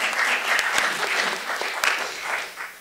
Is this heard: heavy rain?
no